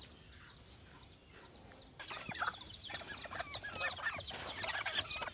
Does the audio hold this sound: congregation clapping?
no